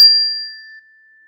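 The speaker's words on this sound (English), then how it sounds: "I'm going to ring my chime again." A yoga chime is struck once, a single bright clear ding with a long pure ringing tone that fades smoothly away, heard alone.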